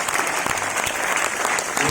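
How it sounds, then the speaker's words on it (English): A crowd applauds a guest, Brigadier Chirag, at a flag-in ceremony for an NCC girls' cycle rally, dense steady clapping that fills the whole span at close, even loudness. "Ladies and gentlemen, give him a applause."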